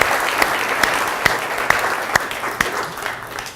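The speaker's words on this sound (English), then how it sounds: "Can she have another round of applause?" An audience at a historical society lecture on professional baseball in Fall River applauds steadily, with a few sharper individual claps standing out at a regular pace from the close, even patter.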